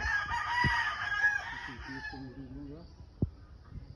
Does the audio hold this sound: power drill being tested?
no